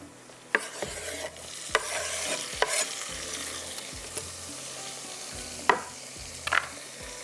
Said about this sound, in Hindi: ये रोस्टेड टोमेटो चले जाते हैं इसके अंदर।